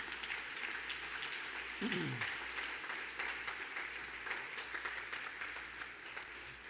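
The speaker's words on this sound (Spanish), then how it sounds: "Aplauda, aplauda su nombre." A church congregation applauds during a Sunday morning service, a steady wash of clapping that fills the room, with a brief voice slide in the middle.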